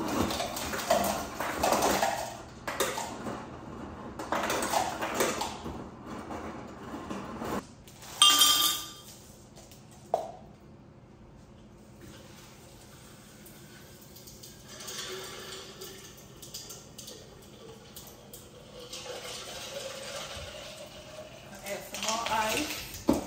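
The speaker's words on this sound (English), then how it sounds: "I gotta add ice and water in here." Ice clinking into a glass flower vase and water being added while a rose arrangement is prepared, bright clinks and splashes in short bursts, with someone talking over much of it.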